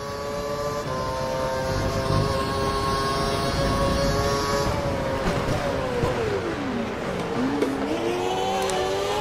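A Formula 1 race car engine in F1 2012 at the Valencia Grand Prix screams at a steady high pitch, then dips and rises through gear changes and braking, loud and continuous, with some tyre noise.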